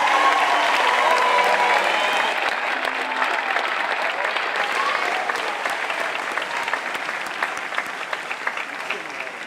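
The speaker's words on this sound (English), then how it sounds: "How about a round of applause for all our team MVPs?" An audience at a college athletics awards show claps steadily and enthusiastically for several seconds, a dense, even wash of applause that slowly thins toward the end.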